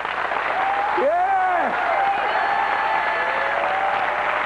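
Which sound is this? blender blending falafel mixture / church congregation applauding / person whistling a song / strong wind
church congregation applauding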